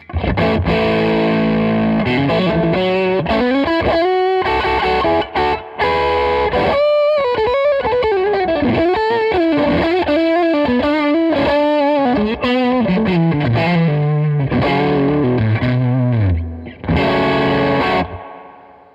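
Overdriven electric guitar through a Victory V40 Deluxe amp with a Klon overdrive pedal set to low gain and high volume, using neck and bridge pickups together. A loud, continuous melodic passage of sustained, gritty notes and bends plays alone.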